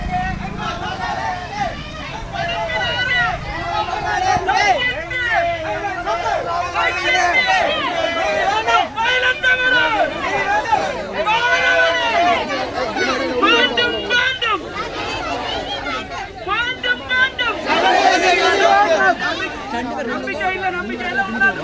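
Crowd of protesters marching through Jaffna, a dense, continuous hubbub of many voices chattering and shouting at once, with some brief louder bursts, all fairly close and steady throughout.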